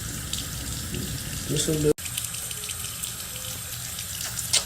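A household tap runs steadily into a sink, a close, constant splashing rush that goes on throughout, with a brief voice speaking over it and one sharp knock partway through.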